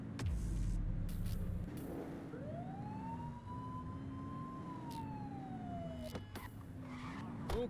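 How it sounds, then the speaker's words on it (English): A police car siren in the Precinct game, a single rising and falling wail behind steady traffic and engine noise, moderately loud with a few sharp clicks. "Get on their tail and flip the siren."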